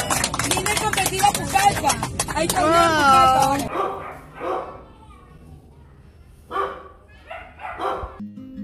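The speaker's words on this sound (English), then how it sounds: "If you heard the dogs barking at the background" Dogs bark repeatedly amid a noisy mix of children's voices, then fainter barks and voices continue sporadically in a quieter stretch.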